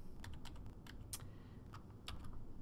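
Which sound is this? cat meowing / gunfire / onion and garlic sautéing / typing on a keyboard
typing on a keyboard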